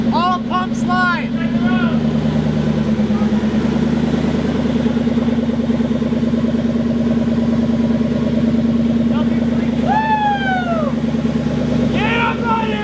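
A turbocharged car engine runs at a steady, close, loud drone with a layered harmonic hum, and a rising whistle swells near the end. Voices speak over it at times.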